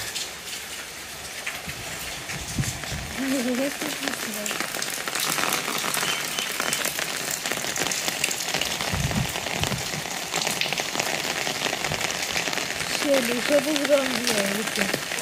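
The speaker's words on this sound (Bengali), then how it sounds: "বৃষ্টি আজকে থামবে না এইভাবেই কাজ করতে হবে" Steady rain falls on surfaces around a village home during Diwali, a continuous hiss broken by heavier spattering, with a few brief tonal sounds in the background and no clear talk.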